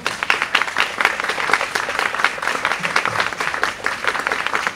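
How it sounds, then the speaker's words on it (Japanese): A hall audience gives loud, sustained applause to a special jury prize winner at a guitarist audition final, the clapping dense and continuous for nearly five seconds. "皆さん盛大な拍手を"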